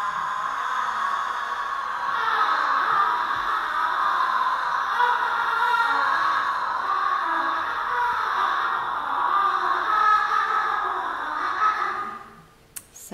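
Mezzo-soprano voice singing a sustained tremolo with glottal distortion, a wavering, breathy, strained tone held steadily for several seconds before cutting off, heard alone and fairly close.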